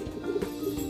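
Two pet birds coo and call close by, a soft, continuous cooing with short repeated notes that carries on without pause.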